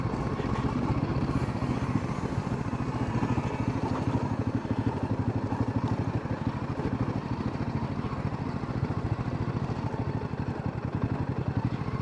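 Motorcycle engine running steadily on a ride between Champhai and Zokhawthar in Mizoram near the Indo-Myanmar border, a continuous loud mid-pitched drone with wind rumble throughout and no talk.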